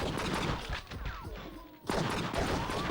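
Gunfire at a shooting range in the video game True Crime: Streets of L.A., a dense run of loud shots that drops briefly into a near-silent gap before the firing resumes.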